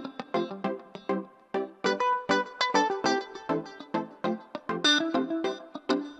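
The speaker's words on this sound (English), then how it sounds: "And I'm using that as the rhythm line there to go along with it." Muted slap guitar sample playing a choppy soca rhythm line: short, percussive plucked notes in quick syncopated bursts, close and clear with no talking.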